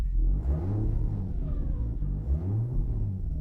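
A turbocharged Lexus IS200 idles while warming up, a steady low engine rumble with slight fluctuations, close and continuous throughout.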